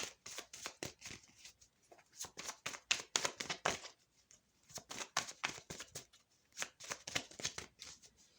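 Fortune cookie oracle cards are shuffled in steady bursts of rapid riffling and slapping, close and fairly quiet, with brief pauses between rounds.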